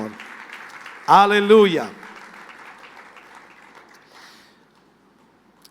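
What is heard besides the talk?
church congregation applause of praise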